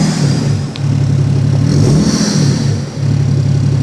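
BMW 530d diesel engine being revved while cold, a raspy, gravelly roar that swells and drops in a couple of throttle blips, loud and close with no talking.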